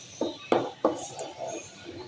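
A spoon stirs chicken haleem in a pot, making three sharp, close metal clanks against the pot followed by softer scraping and sloshing.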